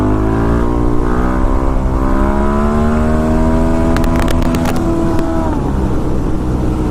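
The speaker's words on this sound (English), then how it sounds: "Third gear, 27 miles an hour, full throttle, slip the clutch," A motorcycle in third gear at about 27 mph goes to full throttle as the clutch is slipped for a wheelie. Its loud, close engine climbs steadily in pitch, and a few sharp clicks come near the end.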